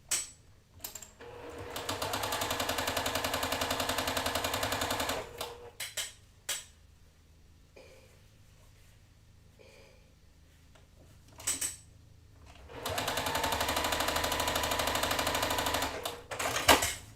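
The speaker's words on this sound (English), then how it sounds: "put these right sides together, and we're going to sew these down." A sewing machine joins quilt pinwheel blocks in two bursts of steady, close, fast stitching, separated by a quiet gap of small handling clicks and taps.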